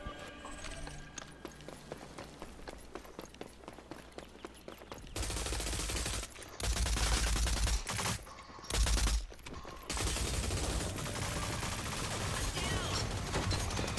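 Bursts of rapid video game gunfire come in loud dense volleys broken by short gaps, starting after a quieter stretch of mechanical clatter and lasting through the rest, close and harsh.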